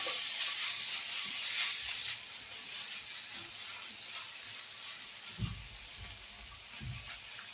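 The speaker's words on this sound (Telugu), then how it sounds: "మామూలుగా కొంచెం వేగితే చాలు." Mango pulihora seasoning frying in a pan, a steady close sizzle and hiss with a few soft clinks of stirring, with no talking over it.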